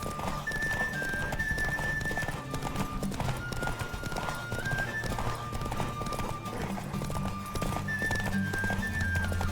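A horse gallops in a race in The Witcher 3, with rapid steady hoofbeats throughout, set against continuous game music.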